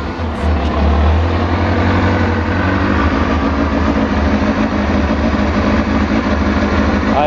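A cold motorcycle idles through an old, worn-out stock exhaust pipe, a loud, close, steady low rumble with an even throb that runs unbroken for the whole stretch.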